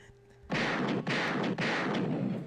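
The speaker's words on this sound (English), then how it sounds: "the gunshots is going off" Three loud, booming gunshot blasts fire in quick succession, each with a long noisy tail that fills the space between them.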